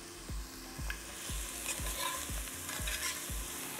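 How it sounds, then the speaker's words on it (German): Onions and garlic sautéing in hot oil in a pan for a vegan stew, with a steady sizzle under regular stirring strokes, about seven scrapes at an even rhythm, close and fairly quiet. "In das heiße Öl kommen Zwiebeln und Knoblauch und werden für ungefähr eine Minute glasig angeschwitzt."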